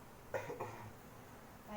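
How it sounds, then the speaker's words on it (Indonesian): A patient coughs during chest physiotherapy and effective-cough training, with two short, close, moderately loud bursts early on, then quiet room tone. "Tarik nafas, tahan, batukan Pak."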